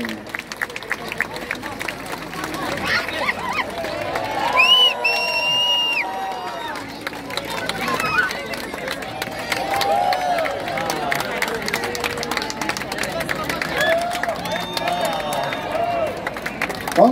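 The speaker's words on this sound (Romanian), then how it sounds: "aplauze, aplauze!" Crowd applause and cheering at an award ceremony of the 2023 Sibiu cycling tour, a sustained outdoor mix of clapping and voices with an announcer's talk and music-like tones over it.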